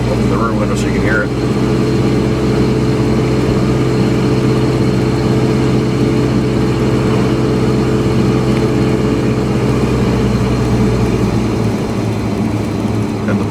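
A truck engine labours uphill, heard from inside the cab with the rear window open. It makes a loud, steady low drone that holds throughout.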